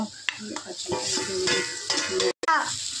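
Fried pointed gourd is stirred into sizzling spices in a pan, with close spoon scrapes and clinks over a steady hiss and a voice speaking along.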